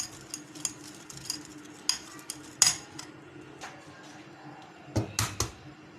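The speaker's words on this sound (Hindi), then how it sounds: "देख सकते हैं आप लोग किस तरह आहिस्तगी के साथ मिक्स किया जा रहा है" Egg is mixed gently into cake rusk batter, giving soft, irregular clinks and scrapes of a utensil against a bowl, with a cluster of sharper taps near the end.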